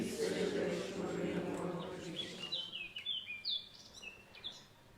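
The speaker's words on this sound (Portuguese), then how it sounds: "É, de facto, um momento para ouvir o passarinho" A small bird chirps in a quick series of high, bright tweets inside a church during a Sunday Mass broadcast, faint and near, following a fading low voice.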